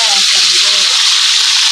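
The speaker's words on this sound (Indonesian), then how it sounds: "Lanjut goreng dele." Soybeans fry in a small black wok with a loud, steady hiss and sizzle, close by, joined by faint stirring and a murmur of voice in the background.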